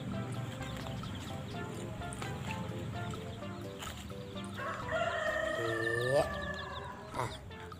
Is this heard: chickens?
yes